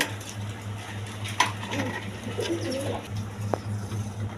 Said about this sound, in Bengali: এখানে এক পিস মাদি কবুতর আছে রাজগোল্লা মাদি